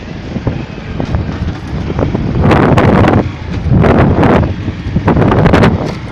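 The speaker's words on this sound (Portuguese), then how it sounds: "olha o vento ali" Strong wind buffets the microphone on a motorcycle ride through Xinguara after a rural cavalcade, with heavy low rumbling gusts that swell loudly around the middle and end of the clip.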